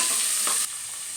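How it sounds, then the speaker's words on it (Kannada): Green peas sizzle in hot tempering oil in a pan for capsicum vangi bath, a brief, steady crackling hiss with a slight drop in intensity partway through, with no voices. "ಈಗ ಇದು ಒಗ್ಗರಣೆಯಲ್ಲಿ ಒಂದು 2 ನಿಮಿಷ ಸ್ವಲ್ಪ ಫ್ರೈ ಆಗಲಿ"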